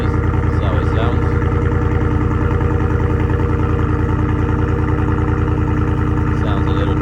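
Deep, loud exhaust rumble from a 2023 Chevy Silverado with a Carven Type R muffler idling steadily nearby, a constant low throb with faint ticking on top and no change in pace throughout.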